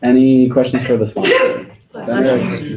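During an undergraduate senate meeting, a person sneezes sharply once, midway between stretches of a voice speaking close to the microphone in a meeting room.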